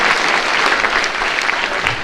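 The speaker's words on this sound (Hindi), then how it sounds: "ताली बजाओ सब मथुरा वालों के लिए" A large crowd at a free cataract-operation camp in Vrindavan, Mathura, gives sustained applause for visiting guests. Dense, even clapping fills the whole stretch at close range, with no voices standing out.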